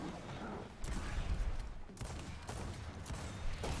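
Gunfire in a Gears of War video game crackles as several sharp shots and bursts spaced irregularly over a few seconds, fairly close, with faint talk in the background.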